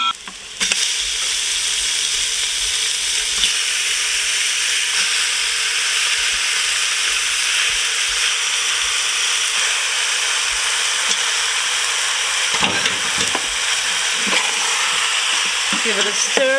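Lamb pilaf sizzles in an Instant Pot on sauté mode, a loud continuous frying hiss with occasional scraping and clatter from stirring near the end.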